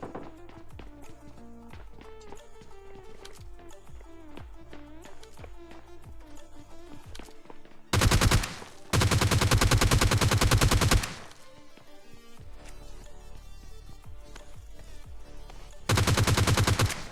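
Gunfire in the battle game PUBG Lite, with footsteps and movement followed by two loud sustained bursts of automatic fire separated by a short pause, no talking.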